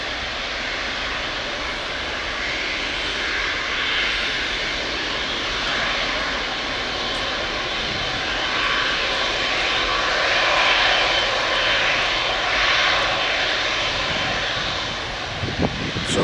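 An Emirates Boeing 777 on the runway at Manchester Airport: a steady, loud roar of jet engines that builds slightly toward the end, heard alone without talking.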